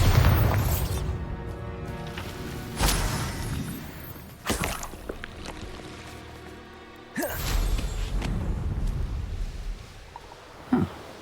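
A Bombarda spell cast in the game Hogwarts Legacy sets off a series of loud booming blasts, each sharp burst trailing off into a rumbling decay, with a final short pop near the end.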